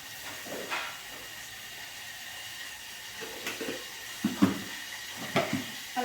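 Cumin seeds hitting hot oil for tempering give a steady soft hiss, with faint crackles and pops scattered through it and growing a little livelier toward the end.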